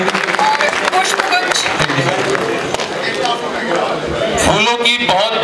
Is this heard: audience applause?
yes